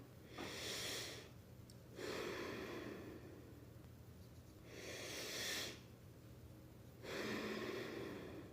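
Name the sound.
slow rhythmic belly breathing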